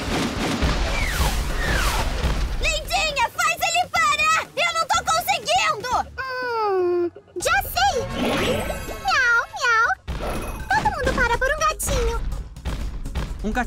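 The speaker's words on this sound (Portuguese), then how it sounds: "Um gatinho." A cartoon kitten mews in a few high, rising and falling cries. The cries are set among lively cartoon voices, music and sound effects.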